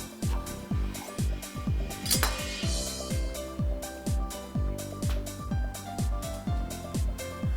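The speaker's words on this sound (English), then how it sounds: "Remove the stem from the eggplant and cut them quarterly." A kitchen knife chops eggplant on a cutting board while it is prepared for tempura, giving a steady run of about twenty crisp, evenly spaced knocks with a faint ringing board tone, close and clear.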